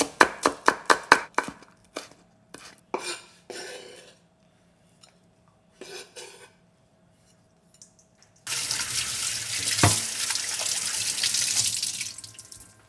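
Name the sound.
chopping green onion with a Korean knife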